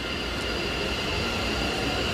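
A violet-line metro train in New Taipei rolls along the rails in a steady, close rumble with a faint high wheel whine and no voices.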